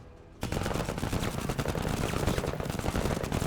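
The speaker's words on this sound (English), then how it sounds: "But shoot them, keep them pinned." Rapid machine-gun fire in the tactical video game MENACE bursts in abruptly after a quiet moment, then rattles on continuously and loudly in a dense stream of shots, with no voices.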